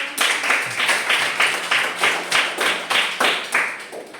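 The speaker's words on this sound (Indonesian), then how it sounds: "sebelum kalian memberikan sanggahan atau pertanyaan, tepuk tangan dulu" Classroom audience clapping in unison before a question session, with a crisp, even series of rhythmic claps repeating about every half second, close and fairly loud, and no talking.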